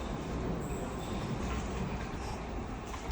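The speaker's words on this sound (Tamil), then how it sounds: "train sir" A train passes near a railway station, a steady broad rumble of wheels and carriages holding at constant loudness throughout, with faint high squeal traces and no voices.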